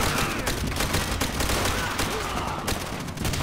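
Rifle fire in the video game Call of Duty: World at War, dense continuous shots in a loud battle din that never lets up.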